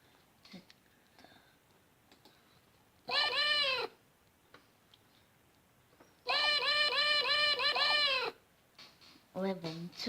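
A cat meows three times, the middle one long and drawn out and the last a short cry, separated by near-quiet stretches with faint small noises.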